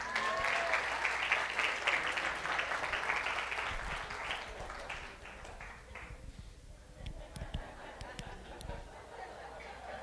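A church congregation at a family retreat breaks into loud, sustained applause that gradually thins out into scattered claps and chatter.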